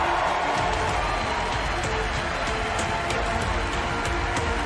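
A dense, roaring crowd at the E3 2019 Bethesda showcase keeps up loud, continuous cheering and applause throughout, with some indistinct voices mixed in.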